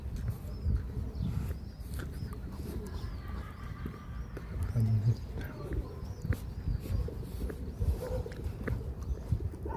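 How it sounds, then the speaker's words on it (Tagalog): A pigeon coos softly in an outdoor spot with a view, faint under the surrounding ambient noise and scattered thumps, with no speech over it. "may kalapati pa oh"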